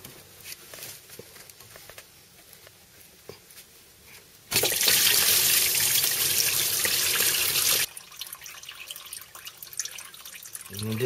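Coolant draining from a car radiator while the cooling system is emptied: a loud, steady gush of liquid that runs for about three seconds in the middle and then stops, framed by quiet dripping and shop noise.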